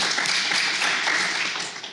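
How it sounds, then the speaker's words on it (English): A studio audience at a live book-event broadcast claps in a dense, steady round of applause that fills the whole stretch at close range and tapers slightly at the end. "Can we give a round of applause for that answer?"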